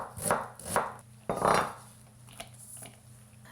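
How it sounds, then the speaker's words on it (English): An onion chopped with a knife, a few sharp irregular cuts on a board close by, fairly quiet with a faint background hum and no talk. "So first let's chop the onion."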